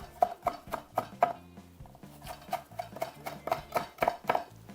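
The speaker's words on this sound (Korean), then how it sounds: "옆으로도 두 번 썰어주면 됩니다" A knife cuts through seaweed on a board in quick, rhythmic knocks, two bursts of chopping separated by a short pause, close and fairly quiet.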